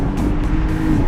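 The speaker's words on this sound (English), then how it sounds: "You can hear that turbo kick in, hear the of the turbo, and it feels nice and quick" A 2022 Audi SQ5 crossover accelerates hard with its turbo spooling, a steady, loud engine roar with rising whine filling the cabin, no talking over it.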